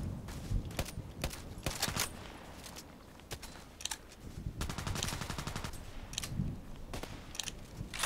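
Repeated bursts of rifle and automatic gunfire in a sniper video game, sharp cracks scattered across the whole stretch with rapid volleys, fairly loud and steady with no talk over them.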